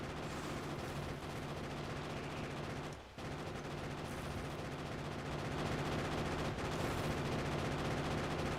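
A Factorio machine gun fires nonstop in a rapid, even rattle, steady and fairly faint, with one brief gap near the middle.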